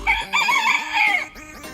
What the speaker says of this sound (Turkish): Bazı kuşlar tavuklar.